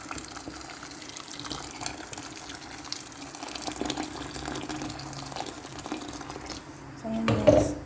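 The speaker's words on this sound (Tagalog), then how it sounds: "Tapos lagyan na natin siya ng water." Water poured into a pot of tomato and meat stew with tomato paste, a brief gushing splash near the end after a stretch of quieter kitchen noise.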